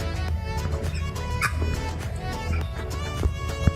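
Nearby geese honk and cackle in a noisy, overlapping chorus, with other farmyard fowl calls mixed in.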